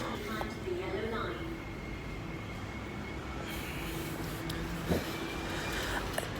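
An MTR train on the Ma On Shan line at Sha Tin Wai station gives a steady low rumble with faint squeals and a brief clank partway through, while a voice talks over it.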